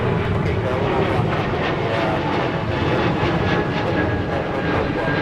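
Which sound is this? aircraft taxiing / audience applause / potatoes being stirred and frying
aircraft taxiing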